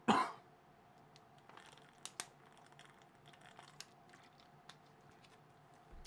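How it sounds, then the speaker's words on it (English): A man gives a single sharp cough close to the microphone at the start, then the room goes quiet apart from faint scattered clicks and small taps. "I don't know why I'm coughing all over the place."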